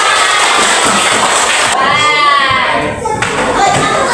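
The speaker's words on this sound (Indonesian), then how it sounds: "Tepuk tangan dong kita semua." Schoolchildren in a primary school classroom clap together, a dense, steady patter of many hands filling the room throughout, with a brief higher whistle-like tone partway through.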